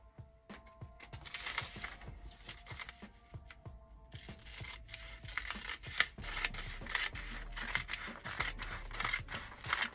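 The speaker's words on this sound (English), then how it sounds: "So I'm going to cut this off." Scissors cutting through a paper vest sewing pattern up close, a series of crisp snips and rustles of paper that get busier and louder in the second half.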